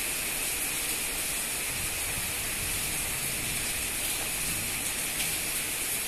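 Heavy rain pours down at night, a dense, unbroken hiss of water hitting surfaces that holds at a constant loudness throughout, with no voices.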